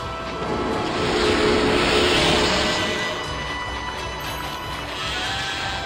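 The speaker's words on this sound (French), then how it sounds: "Et il y a des moutons ici que j'avais pas vu." Sheep in the Okami video game give a drawn-out bleat over a thick, loud bed of game music and ambient sound.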